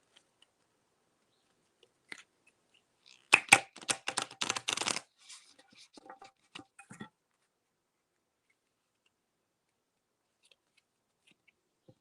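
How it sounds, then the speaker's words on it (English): A deck of tarot cards gets shuffled close by in a quiet room: a quick burst of crisp riffling and flapping slaps lasting a couple of seconds, followed by a few scattered soft taps and card handling sounds. "let me shuffle these cards"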